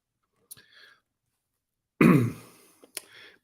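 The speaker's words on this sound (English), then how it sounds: "He's choking on his water over there." A man choking on water coughs and clears his throat: a faint splutter, then a sharp, harsh cough burst with trailing hacks, isolated against silence.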